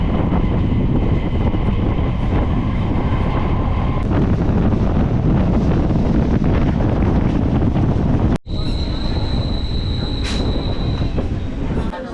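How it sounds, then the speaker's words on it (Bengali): A local commuter train rumbles loudly into a station, with steady wheel and wind noise, a high squeal of wheels, and a brief break partway through. "চলে এসছে আমাদের বনগা লোকাল"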